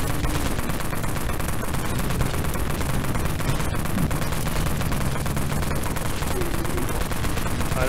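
A war carbine fires nonstop in the online zombie shooter Dead Frontier, a dense, loud stream of rapid gunshots running the whole stretch with no pause.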